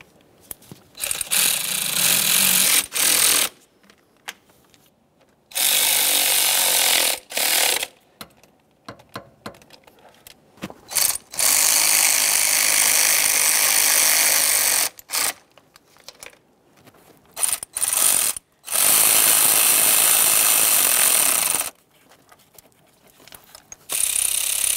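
Valve cover bolts on an Acura MDX 3.7L V6 are snugged down with a ratchet in repeated loud bursts of rapid clicking, separated by short pauses.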